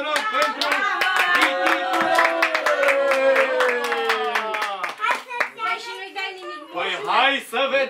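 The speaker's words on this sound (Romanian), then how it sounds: "Încă o dată aplauze, vă rog" Audience clapping in rhythmic unison at a children's event, a steady run of sharp claps for several seconds with a voice and other voices over it, the clapping thinning toward the end.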